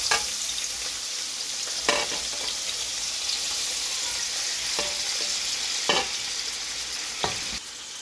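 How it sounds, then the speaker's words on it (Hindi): Vegetables hitting hot oil in a cooking pot for Chinese pulao give a steady, bright sizzle throughout, broken by a few sharp clatters from stirring. "तेल अब गर्म हो गया है, मैं इसमें सारी सब्जियां डाल रही हूँ।"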